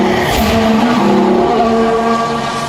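A race car in an F1 video game spins with a loud, continuous tire squeal over a high engine whine, a close and dense skid lasting a few seconds.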